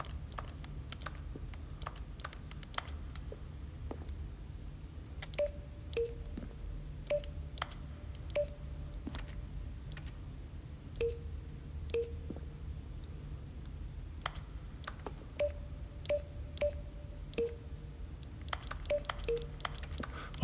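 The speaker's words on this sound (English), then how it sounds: "Why do some of them make pinging sounds?" Button presses in The Stanley Parable, heard as a steady run of sharp clicks. Some presses set off a brief, bright electronic ping that comes in small clusters over faint background hum, with no voices.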